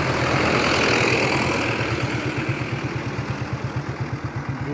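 Tractor engine idling at a road construction site, a close, steady low chugging throb with regular rhythmic pulses that grow more distinct as it runs.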